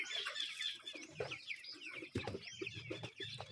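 Several 45-day-old broiler chickens cluck and chirp steadily at close range, with overlapping calls and soft rustling from the flock, no voices.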